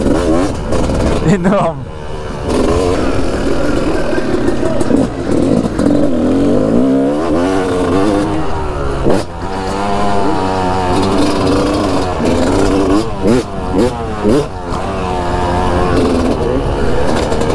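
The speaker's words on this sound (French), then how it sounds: "on est parti pour faire le tour de la piste de Supermoto" Supermoto motorcycles rev on a race track at an evening show, their loud engines droning continuously with repeated rising and falling pitch sweeps as the throttle opens and closes, while a person talks briefly over the noise.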